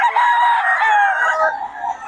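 A stag gamecock crows once in a long, drawn-out call, close and loud, with harmonic tones held for about two seconds before trailing off.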